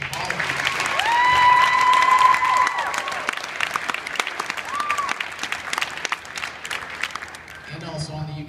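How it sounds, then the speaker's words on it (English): An audience at a high school fine arts night applauds the organizer with sustained clapping and some cheering, swelling early and then trailing off, while a sung or whistled tone rises over it. "So we give him another round of applause for organizing all of this."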